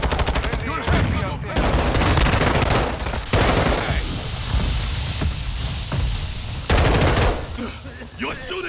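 Heavy video-game gunfire from Call of Duty: Modern Warfare II, loud bursts of automatic rifle and machine-gun shots in rapid rattling volleys with short gaps, mixed with battlefield noise and shouted radio-style voices.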